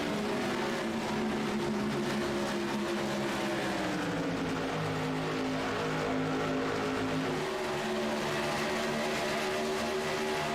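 Modified race cars in the iRacing game circling Phoenix in a pack, a loud continuous engine drone with shifting, layered pitches as several cars run close together, no talking.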